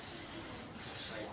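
An aerosol can of spray paint lets out a steady, soft hiss, close by, with a brief break midway before spraying resumes.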